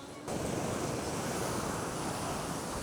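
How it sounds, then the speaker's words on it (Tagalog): Strong waves washing on a large lake in Lipa City, a loud continuous roar of surf mixed with heavy wind buffeting the microphone, starting abruptly and holding steady with no voices. "Ah, lakas ng alon."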